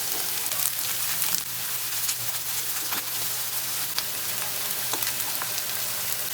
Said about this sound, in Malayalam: സോ ഇത് കരിയാതെ ടൈം എടുത്ത് തന്നെ ഇതുപോലെ ഒന്ന് ഫ്രൈ ചെയ്തെടുക്കണം.